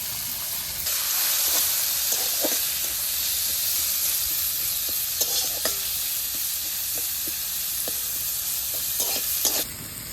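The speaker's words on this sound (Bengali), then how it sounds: "রসুনটা লাল লাল হয়ে গেছে, এবার পেঁয়াজ কুচিগুলো দিয়ে দেবো" Chopped onions tossed into hot oil with browned garlic and bay leaf sizzle loudly and steadily, with a continuous close hiss broken by scattered clinks and scrapes of a spatula against the pan.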